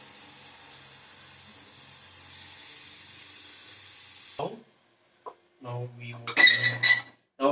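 A pressure cooker releasing its steam after cooking brinjal biryani gives a steady, faint hiss for several seconds, then cuts off. It is followed by clicks and handling noises as the lid is opened, with a voice speaking near the end.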